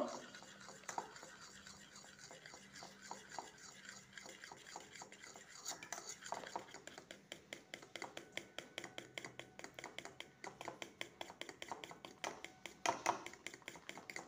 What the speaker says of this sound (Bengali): ভালো করে এটাকেও আবার ফেটিয়ে নেব।